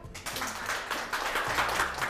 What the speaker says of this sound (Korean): 큰 박수로 모셔볼게요